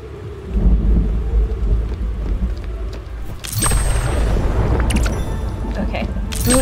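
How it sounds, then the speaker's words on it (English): Thunder rolls with heavy rain in the Spiritfarer video game, a loud rumble under constant rainfall, then two sharp bright cracks a second apart. "Heads up, thunder is here."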